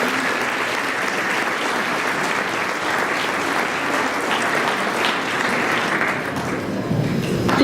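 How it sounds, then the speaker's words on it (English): An audience at a chamber of commerce awards event applauds the nominees, giving loud, sustained clapping that stays constant throughout with no voices over it. "Let's give them all a big round of applause."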